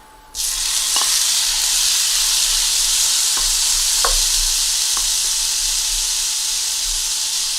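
Small pieces of steak hitting a hot pan and breaking into a loud, continuous sizzle that holds steady throughout, with a few faint clicks of stirring over the hiss.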